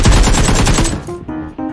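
A rapid burst of pistol shots in a shooting video game, loud and close, a dense string of cracks lasting about a second before fading into quieter game sounds.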